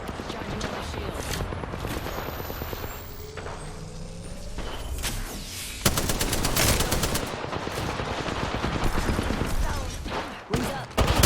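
Rapid automatic gunfire in the video game Apex Legends during an arena fight, with loud bursts of shots, a sharp crack, and continuous rattling fire close up, and brief game voice lines over the shooting.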